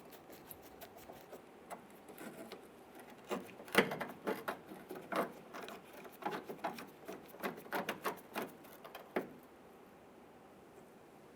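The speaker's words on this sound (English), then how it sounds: "We're going to screw this in. Once it bottoms out, we're just going to snug it down a little bit" Screws are driven into a bumper bracket on a 2011-2017 Honda Odyssey, heard as faint, close, irregular mechanical ticking and clicking that grows busier in the middle and settles toward the end.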